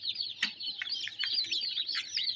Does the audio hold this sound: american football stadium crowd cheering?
no